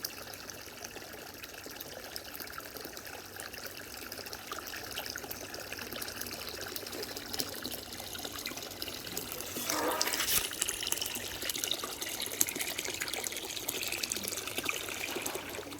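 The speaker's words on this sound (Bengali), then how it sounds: "বন্ধ করে দিই, ভরে গেছে জলটা।" Water runs steadily from a tap into a container, a continuous trickling pour that grows slightly fuller and louder near the end, alone without talk.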